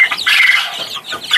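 Young chicks kept in a makeshift brooder in a cage section under a heat lamp, peeping and chirping in close, rapid, overlapping high calls.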